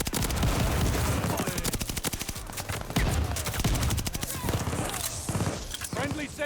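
Rapid assault rifle bursts from Call of Duty: Vanguard fill the scene, loud dense automatic fire with short gaps, mixed with game effects and faint voices throughout.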